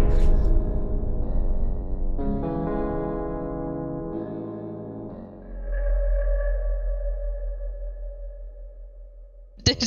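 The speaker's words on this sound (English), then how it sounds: "He played a real, like, ear version of the metal pipe sound, and then he left." Metal pipe clang from Garten of Banban 3: a loud, long, ringing metallic tone with layered overtones that sustains and shifts for several seconds, followed near the end by another sharp clang.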